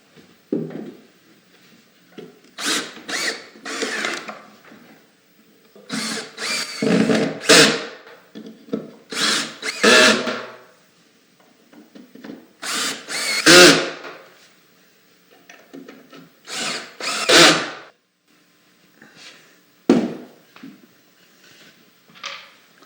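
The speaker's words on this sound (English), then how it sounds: "screwing in this intermediate support for the bottom shelf" A power drill drives screws into a wooden intermediate support for the bottom shelf of a bookcase. It gives repeated short bursts of whirring separated by pauses, and the clicks of handling come close by.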